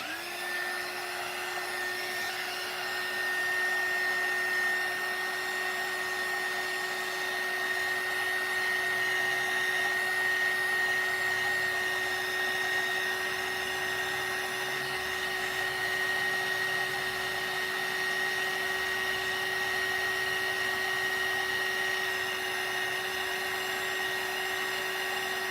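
A hair dryer blows steadily throughout while drying paint on a festive gingerbread cookie painting, a constant whirring hum with a sustained high whine and no talk over it.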